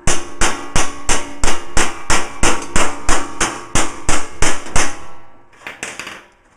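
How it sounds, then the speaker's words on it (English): A flat-faced hammer shapes metal for a Willys Jeep front panel, with about sixteen loud, evenly spaced close-up strikes followed by a few quicker, lighter taps as it trails off. "we're going to go over that with a flat faced hammer"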